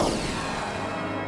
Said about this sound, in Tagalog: Meron pang makulay na fireworks display.